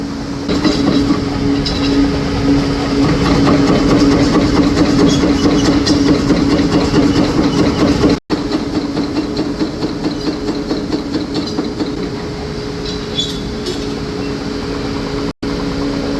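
A Sabian Legacy ride cymbal is struck by a cymbal hammering machine in a factory, producing a dense, steady metallic clatter with a sustained ringing drone that continues loudly and almost uninterrupted, with brief gaps.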